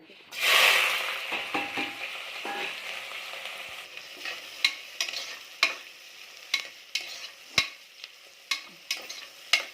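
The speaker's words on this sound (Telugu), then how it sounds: "కొంచెం సాల్ట్ వేసుకుందాం, తొందరగా మనకి ఫ్రై అయిపోతుంది ఆనియన్" Chopped onions sizzle in a pan as they fry, with a loud hiss at first and then regular scraping and clinking of a spoon stirring them, close and clear with no talking.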